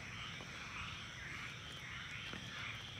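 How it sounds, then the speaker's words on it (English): A chorus of frogs croaks after about four inches of overnight rain, a faint but steady trilling din that fills the whole stretch with no pauses. "as you can probably hear from all the frogs, they're really happy"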